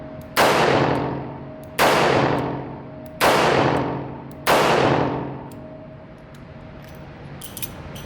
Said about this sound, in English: this gun is really easy and fun to shoot.